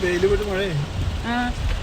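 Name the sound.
heavy rain falling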